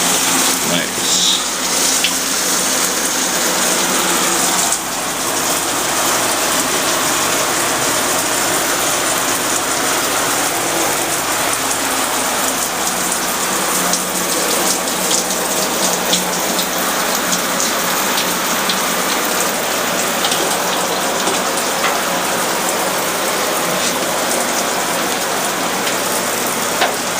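Water runs steadily and loudly throughout as soap is rinsed off laundry, a continuous broad hiss with slight splashing that never lets up.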